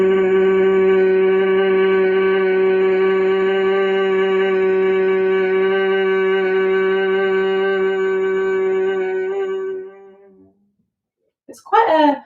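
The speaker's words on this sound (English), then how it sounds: "making a B or a B humming sound from the nasal cavity with your lips closed" A single voice humming through the nose with lips closed in Bhramari breathing, one long steady buzzing tone that fades after about ten seconds and is followed by a brief breath.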